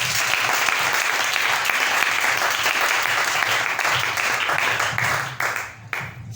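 A church congregation applauds steadily with dense, continuous clapping that fills the space, then thins and breaks off into a few scattered claps near the end.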